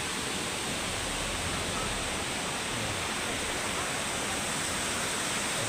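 Nagsipit Falls in Casiguran, Sorsogon roars as a steady, dense rush of falling water, loud and unbroken throughout with no voices over it.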